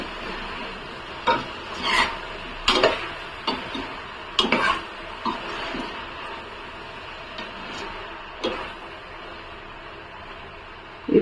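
A spoon scrapes and stirs ridge gourd and cucumber curry in a pan, making irregular, close scraping strokes every second or so over a faint background sizzle.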